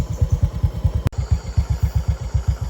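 Motorcycle engine running at steady low revs while riding on a road in Vietnam: a rhythmic, throbbing pulse close up, interrupted once by a brief sharp click, with constant road and wind noise.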